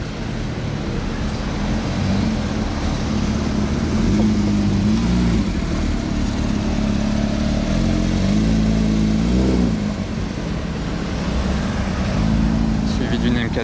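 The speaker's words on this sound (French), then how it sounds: "nouvelle 992 GT3 en full black" New black Porsche 992 GT3 driving past on a Monaco street, its engine note droning steadily and rising and falling in pitch, with constant traffic rumble and voices talking throughout.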